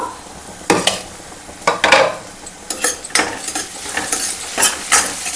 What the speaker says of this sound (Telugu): ఇప్పుడైతే ఒకసారి మనం కలుపుకుందాము.